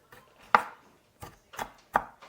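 A knife chopping on a cutting board, five uneven chops spaced apart with quiet pauses between them, close by.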